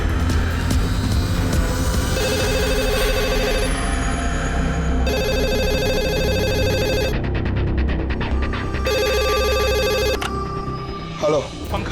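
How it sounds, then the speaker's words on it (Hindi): Mobile phone ringtone repeating in bursts, close and clear, over a busy backdrop of music and speech in a CID crime drama scene. "फोन उठाओ।"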